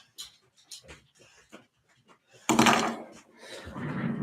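Dogs panting and whimpering close by, with soft, quick breaths and small whines at first, then a louder burst of rustling, heavy panting toward the end.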